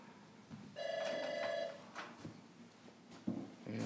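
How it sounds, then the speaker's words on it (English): Telephone bell ringing indoors, one burst of a bright electronic ring lasting under a second, moderately loud, followed by small handling clatter. "And the phone's ringing."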